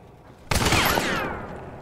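A single loud gunshot rings out in the video game Hunt: Showdown, a sharp blast followed by a long, fading echoing tail, with no talk over it.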